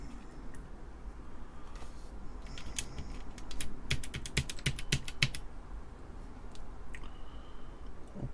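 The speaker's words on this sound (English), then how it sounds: "I know it's so exciting watching me put keycaps back on." Clicks and snaps of keycaps being pressed back onto a TeleVideo TVI-912C terminal keyboard, a run of crisp, close plastic clicks clustered mid-clip over steady low background hiss.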